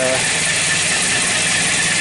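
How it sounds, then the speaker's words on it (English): A 1984 Mercedes W123 230E with about 274,000 km, its engine idling evenly with a steady, smooth hum close by, while someone speaks over it. "And idles really evenly, nice and solid."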